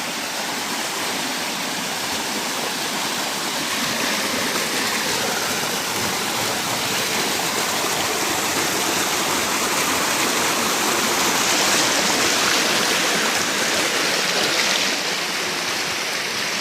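Steady rush of flowing water, loud and continuous like a nearby stream or small cascade, with no voices throughout, in Konkan.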